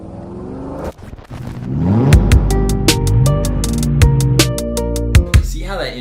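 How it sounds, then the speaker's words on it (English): Roaring supercar and regular car engine revs layered with glitchy electronic stutters and reverb, built up as a punchy commercial-style intro with sharp rhythmic hits and bursts. "we took a couple of car sound effects, supercar sounds, regular car sounds, and a few glitchy sounds"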